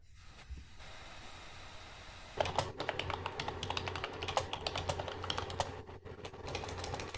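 Rapid typing on a computer keyboard during an online board meeting, close and continuous, with dense irregular key clicks over a low electrical hum for several seconds and no talking.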